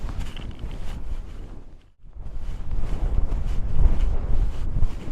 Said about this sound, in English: Windy. Getting windier as we get closer to the lake